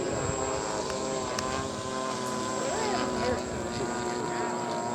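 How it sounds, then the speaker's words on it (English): A radio-control model biplane drones overhead at a large-scale RC airplane event, a steady propeller buzz with shifting pitch as it passes. "here comes there's the biplane."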